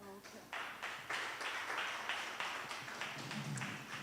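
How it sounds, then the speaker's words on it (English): A crowd claps at a World Sickle Cell Day advocacy event in Kenya, with dense, sustained applause swelling after a brief pause and continuing steadily under a speaking voice. "A round of applause."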